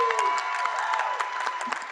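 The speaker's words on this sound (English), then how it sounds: "Again, a round of applause to these amazing actors." Brief round of audience applause for improv actors: steady clapping from a crowd with a voice speaking over it, lasting a couple of seconds.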